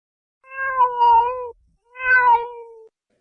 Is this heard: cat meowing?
yes